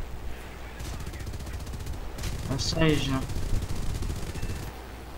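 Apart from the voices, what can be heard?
anti-aircraft gunfire in a flight combat video game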